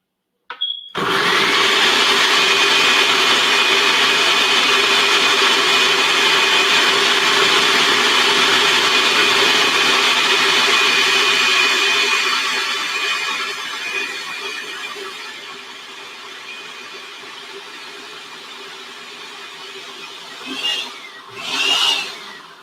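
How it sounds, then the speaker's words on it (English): A blender grinds sea moss in a loud, steady whine that runs for many seconds, slowly easing in pitch and volume before a few short bursts near the end. "If it don't go quick enough, I'm gonna go get the other blender though."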